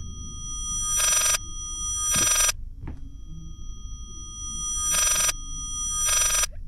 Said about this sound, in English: So the phone is ringing backwards